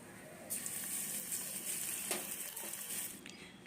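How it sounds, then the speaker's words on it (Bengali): Chopped ginger frying in hot oil with panch phoron and dried chilli for a carrot and cauliflower pickle, a soft steady sizzle that swells after a quiet start, with a few light clinks of stirring, close by. "আদা দেওয়ার পরও আমি 1 মিনিট মতো ভেজে নিলাম।"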